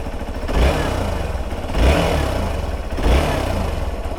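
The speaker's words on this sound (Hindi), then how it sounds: "तो ये इंजन का साउंड है, सुनो एक बार" A freshly rebuilt car engine runs warm at idle and is briefly revved three times, each swell rising above a steady low rumble with a faint rough rattle, close and loud, no talk.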